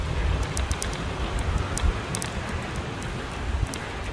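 Strong wind buffets the microphone outdoors in the French Maritime Alps, a loud continuous roar with low rumbling gusts and scattered crackles, no voices.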